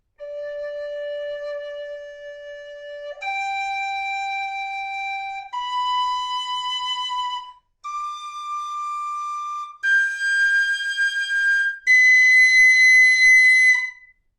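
A carbon fiber pennywhistle sounds six long, clear notes one after another, climbing higher and growing louder, each held for a couple of seconds.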